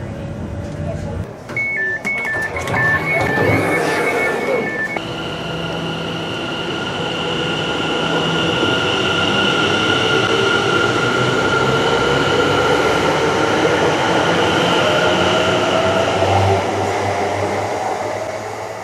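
Interior of a moving train on the line to Southend Victoria, Essex: a loud, continuous rumbling roar that builds after a short chime-like announcement tone, with steady wheel and motor noise.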